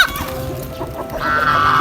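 A rooster crows once, close and loud, a brief hoarse call that rises and holds at the end.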